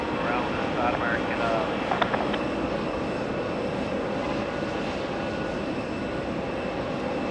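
A Boeing 787 Dreamliner's jet engines at John F. Kennedy International Airport give a steady, broad roar that holds at an even level throughout, with faint voices in the background.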